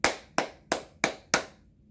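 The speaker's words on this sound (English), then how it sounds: "Simon says, clap your hands." Five sharp hand claps at an even, steady rhythm, loud and close, with short gaps between them and no talking.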